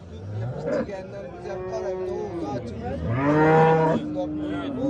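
Cows and calves moo loudly nearby at the Olot livestock market in Uzbekistan, long low drawn-out calls, one swelling stronger near the end, over faint market chatter.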